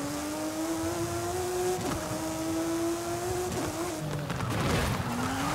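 Car engine drone from a PC racing video game, a steady tonal hum that shifts pitch as the car changes speed, with brief tire-skid noises and scraping crunches, under game music.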